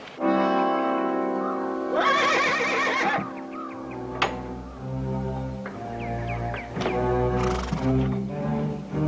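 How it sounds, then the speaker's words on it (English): A horse lets out loud, drawn-out whinnies, with a second neigh later, over low rumbling background sound and a sharp knock, in a western TV episode. "Feel another horse out there somewhere."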